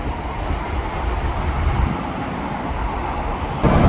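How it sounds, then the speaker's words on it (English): An eastbound SkyTrain passes on an elevated line in a valley setting, a steady broadband rumble and rolling hum that holds throughout and swells slightly near the end, with no voices. "Incoming eastbound SkyTrain."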